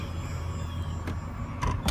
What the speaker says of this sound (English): And down goes the top.